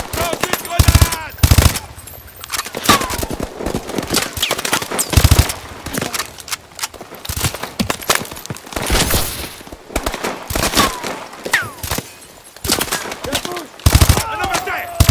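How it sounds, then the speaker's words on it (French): Suppressive gunfire in the Call of Duty: Advanced Warfare video game rattles in loud, dense machine-gun bursts and scattered shots throughout, mixed with shouted voices close by. "Tir de suppression!"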